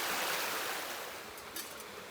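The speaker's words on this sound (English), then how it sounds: "We are getting ready to cross a little tiny creek" A little creek on the Ozark Highlands Trail flows with a steady, close, hissing rush of water, broadband and unbroken, and no one speaks.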